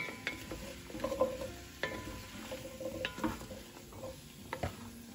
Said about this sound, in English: I'm not really browning the carrots, but I kind of like to get that oil on the carrots.